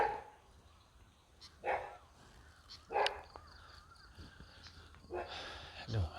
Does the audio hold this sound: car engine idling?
no